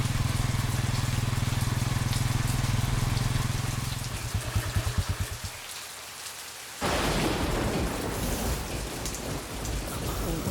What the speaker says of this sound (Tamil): மழை வேற பின்னுதே